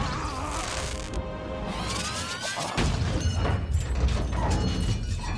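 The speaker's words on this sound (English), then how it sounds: "All of the transformations here sound so alien and mechanical" A Transformers robot transforms in a dense burst of whirring gears, ratcheting clicks, metallic clanks and rising whines, with heavier impacts thudding in near the end.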